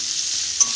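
A brief burst of spiced onion, garlic, ginger and nigella being stirred in hot oil: a close, steady sizzle with a single sharp scrape of the spoon near the end.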